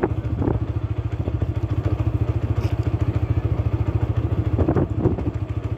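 A TVS Apache 160 4V fuel-injected motorcycle with ABS climbs a slope on cruise control, its single-cylinder engine giving a steady, close, pulsing rumble throughout with a few faint clatters.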